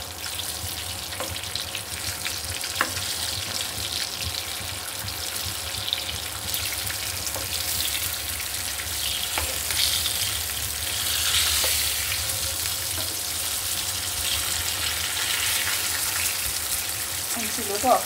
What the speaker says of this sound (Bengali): আমার মাছ ভাজাটা হয়ে গেছে,